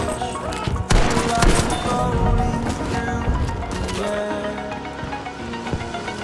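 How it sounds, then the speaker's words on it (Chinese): Gunfire in the video game Battlefield V, a loud dense burst of rapid shots and cracks up close that fades into a busier battle din, with a voice speaking over it. "有枪声，有枪声，是谁？"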